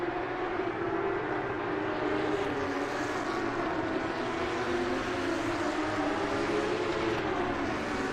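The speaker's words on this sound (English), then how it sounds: "it's the Porsches moving, not the BMWs, because it is quite a bit louder right now" Steady, loud engine drone from Porsche race cars in a racing video game, heard at Kyalami in a mixed-class race, with a continuous roar and no breaks.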